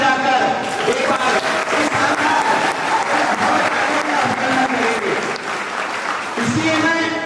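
Audience at a lecture on tribal heritage in Ambikapur, Surguja, claps loudly and steadily throughout, a dense continuous roar of hands with a voice heard faintly underneath.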